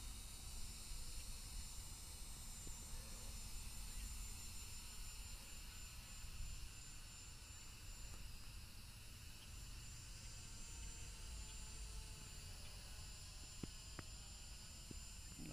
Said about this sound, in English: The most responsive drone in the world.